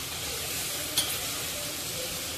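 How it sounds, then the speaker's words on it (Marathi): Bottle gourd pieces sautéing in a pan over medium flame produce a constant, even sizzle, with one brief light clink near the middle. "तर आता आपण थोडीशी हिला परतून घेऊया"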